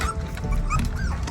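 A pack of beagle dogs and puppies fills a house with overlapping whimpers, yips and short barks, close and continuous with a busy, noisy background.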